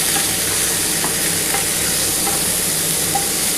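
A vegetarian curry of raw chickpeas, potato, pointed gourd and green banana is stirred in a hot pan, making a constant dense sizzle with faint scraping strokes and no talking.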